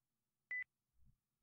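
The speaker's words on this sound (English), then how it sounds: "Phone buzzing." Single short electronic buzz of a phone in The Crooked Man video game, a brief clean tone on near silence, followed by a faint low thud.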